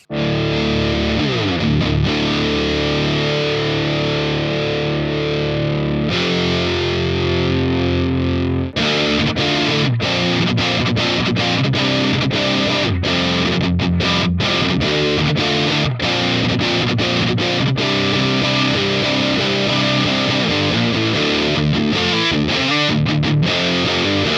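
Electric guitar riffs through a DemonFX Fat Mouse fuzz distortion pedal, thick saturated chords and sustained notes played loud and continuous, with short choppy stabs and pauses in the latter half and no talking.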